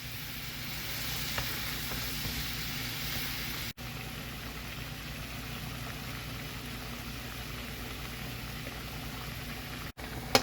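Liver and onions frying in a pan, a steady soft sizzle with crackling that continues evenly throughout, fairly quiet and without any talk.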